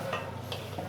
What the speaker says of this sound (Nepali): थोरै थोरै पानी राखेर मिक्स गर्छु।